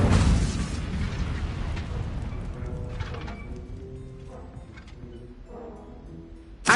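Casting the Incendio fire spell in Hogwarts Legacy gives a loud burst of flame and a roaring whoosh, which fades into crackling embers and faint clinks before a sharp pop at the end.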